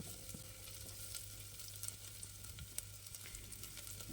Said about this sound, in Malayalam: ഇനി സവാള ഒന്ന് വഴറ്റിയെടുക്കണേ.